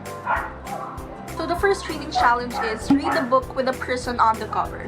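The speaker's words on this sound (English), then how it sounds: "The dogs next door are non-stop barking" Neighbours' dogs bark in repeated yips and woofs next door, mid-distance and fairly loud, running under a person speaking steadily throughout.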